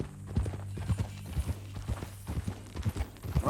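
Horse hooves clip-clop in a steady walking rhythm in Red Dead Redemption 2, with a faint creak of tack and no voices.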